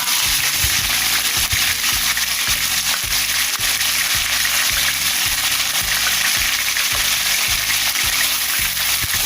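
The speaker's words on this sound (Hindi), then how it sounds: "अब इसमें अदरक लहसुन ऐड करेंगे।" Ginger and garlic frying in a pan for white korma, a steady loud sizzle with a rhythmic low stirring or scraping beat underneath, continuous throughout with no talking.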